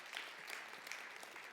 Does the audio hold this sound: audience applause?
yes